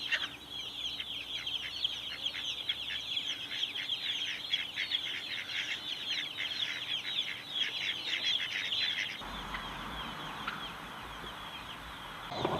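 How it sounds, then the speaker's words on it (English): Free-ranging chickens and turkeys cluck outdoors on a homestead, a rapid run of short clucks and chatter repeating close by for several seconds, then the calls stop and only a soft wind-like outdoor hush remains. "The turkeys are free-ranging today with the chickens."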